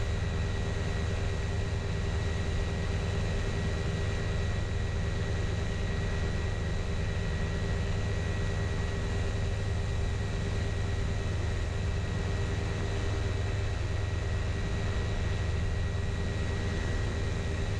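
A light aircraft engine drones steadily in flight while climbing toward a 500-foot cruise, a loud continuous low hum with a constant tonal whine and wind rush, unbroken and close throughout.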